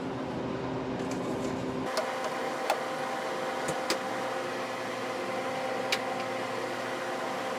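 A freeze dryer running with its pump kicking on, a hum that shifts abruptly to a steady tonal mechanical drone, joined by a few scattered faint clicks and ticks, heard indoors without speech.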